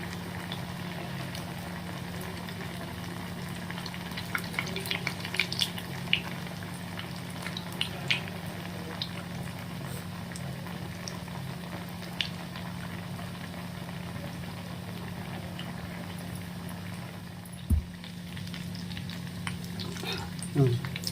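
Sabudana vada deep-frying in hot oil over a medium flame: a steady, gentle bubbling sizzle that runs throughout, with scattered crackles and a low hum in the background.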